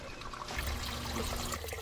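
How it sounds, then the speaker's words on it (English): A sump pump runs in a backyard French drain system collecting subsurface water, heard as a soft trickling, pouring flow with a faint steady hum, quiet and close, with no talking. "I can hear the pump"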